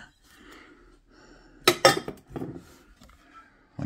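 Set of four white KooK ceramic pasta bowls clinking together as they are unpacked, a couple of close, bright knocks followed by softer rattling and handling sounds, with no talking.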